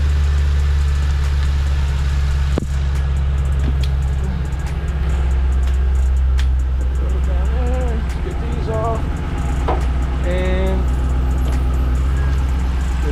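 A car engine, just revived and running on its battery, idles in a steady, loud low rumble, with a sharp knock early on and a few squeaky tones and clanks over it.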